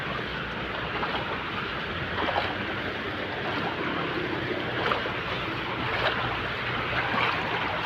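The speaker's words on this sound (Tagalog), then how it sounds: "Ayan na, lakas ng tubig oh." Strong floodwater surges across a damaged road in the Philippines, a continuous churning roar with slight swells and some wind buffeting the microphone, steady and close with no talk.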